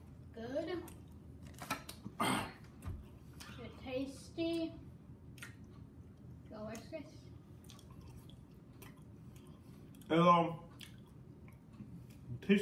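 Chewing on a very hot, chewy peanut butter cup stuffed with peanut butter, with close, wet mouth sounds arriving in irregular bursts between quiet pauses.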